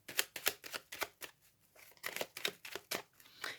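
Tarot cards shuffled close to the listener, a quick string of crisp papery riffs and flicks in short bursts, fairly quiet and without voices.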